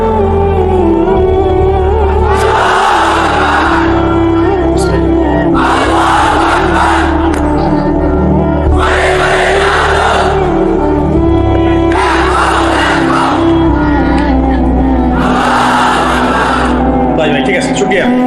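A large crowd at an Islamic religious sermon chants takbir in loud, repeated unison surges about every two and a half seconds, over a steady background hum.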